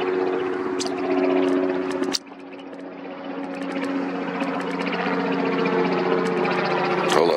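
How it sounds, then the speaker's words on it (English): A helicopter passes overhead outdoors as a steady, droning rotor and engine hum that holds at a fairly constant level throughout, with a brief dip partway through. "helicopters are flying over. And I hear one right now."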